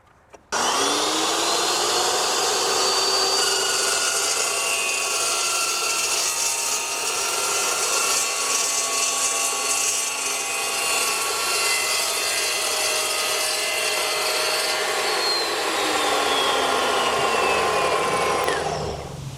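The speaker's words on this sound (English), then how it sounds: "I really need to get this Evolution saw, so here we are." An Evolution power saw cuts through steel during a DIY lumber rack build, giving a loud, sustained high-pitched whine that spins up and then grinds steadily for about eighteen seconds before winding down, close up and with no talking.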